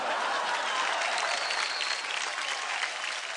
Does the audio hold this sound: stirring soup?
no